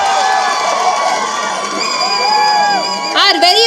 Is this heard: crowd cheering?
yes